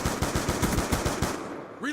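Rapid automatic gunfire in a video game, a dozen evenly spaced loud shots in a quick burst before cutting off, followed by a brief rising electronic tone.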